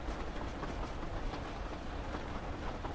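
Highland express train running along the railway line across the Rannoch moors, a soft continuous rumble with faint rhythmic clickety-clack of wheels, heard alone at low volume.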